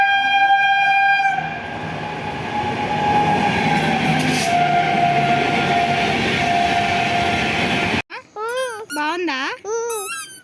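A train passes close by, with a loud, sustained rumble and clatter under a long horn-like tone that fills the first eight seconds before stopping abruptly, after which people talk.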